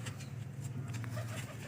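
Breeder pigeons on a rooftop cooing in low, rolling murmurs, steady and faint, with light background noise.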